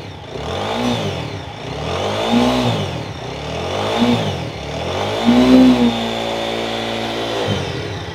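An untouched second-hand motorcycle engine is revved repeatedly up close, several rising and falling surges of throttle over a steady idle, ending in a sustained high rev before dropping off.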